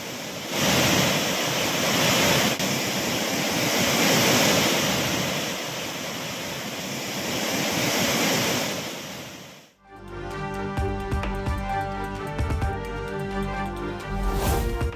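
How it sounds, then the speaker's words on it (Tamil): The flooding Cauvery river at Hogenakkal roars as a loud, steady wash of rushing water for about ten seconds, then cuts abruptly to a different, music-like segment. "ஒகேனக்கல் காவிரி ஆற்றில் கடும் வெள்ளப்பெருக்கு."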